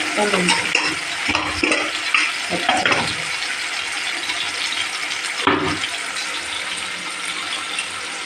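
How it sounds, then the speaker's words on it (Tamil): Chicken gravy cooking in a pan for a lunch of chicken biryani and gravy, with loud close scraping stirs over a constant bubbling sizzle and several sharper spoon knocks along the way. "இது வந்து கிரேவி, சிக்கன் கிரேவி ரெடி பண்ணிட்டு இருக்கிறேன்"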